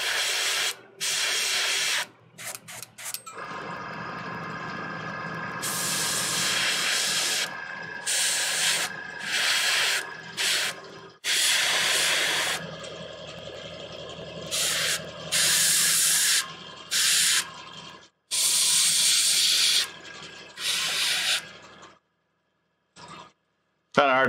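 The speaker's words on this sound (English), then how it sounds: "I'm going to spray it right into the recesses and the shadows" An airbrush sprays a dark purple glaze into the recesses of a Warhammer 40K Magnus the Red miniature, giving close, steady hissing bursts of several seconds that start and stop repeatedly, with wind noise outdoors.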